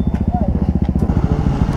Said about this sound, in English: Ito yung motor ni Jan Chris.